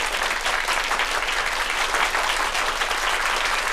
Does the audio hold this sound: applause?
yes